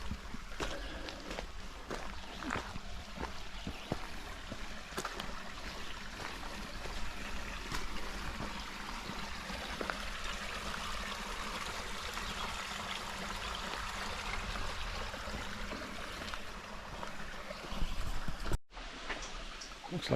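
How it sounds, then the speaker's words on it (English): A small stream flows beside a hiking trail at Frankfurt Mineral Springs, a steady close trickle and burble with occasional footsteps and crunches over the water, ending in a brief cut and a louder rustle. "Looks like we're going back across the stream."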